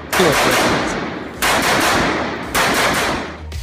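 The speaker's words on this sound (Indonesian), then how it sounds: "Senapan FAMAS F1 memiliki mekanisme blowback, sehingga mampu menyemburkan hingga 1000 peluru per menit" A FAMAS F1 bullpup assault rifle with a blowback mechanism fires loud, sustained automatic bursts, three long roaring strings of rapid shots that run into each other, close and harsh with no pauses for speech.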